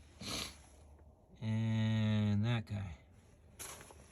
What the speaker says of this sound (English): if you're wondering why I'm sniffling